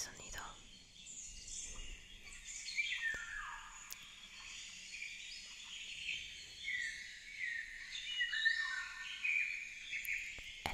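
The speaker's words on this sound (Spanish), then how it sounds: "Sonido de los pájaros, de la naturaleza, del bosque." A forest birdsong recording plays quietly, with layered chirps and trills over a soft natural background, faint and steady throughout.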